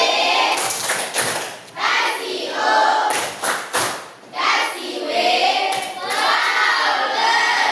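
Audience doing a rhythmic appreciation clap at a teacher training session, patterned bursts of clapping with pauses, mixed with voices chanting along.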